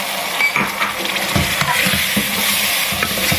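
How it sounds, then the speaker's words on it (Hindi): Tomatoes frying in keema masala while being stirred, close sizzling with repeated spoon scrapes and light clinks against the pan, no speech. "2-3 मिनट के लिए इसको भूनना है"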